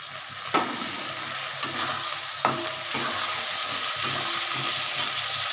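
Green peas go into potatoes and onion frying in a pan, with a steady sizzle and a few sharp knocks of the spoon as the mixture is stirred.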